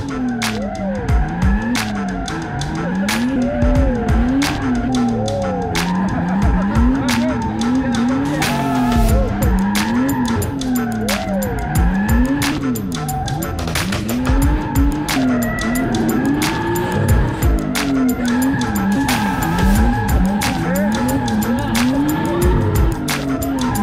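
Drift car skidding through repeated slides, loud wavering tire squeal rising and falling in long sweeps over steady engine roar, continuous throughout with occasional sharp clicks and a few voices underneath.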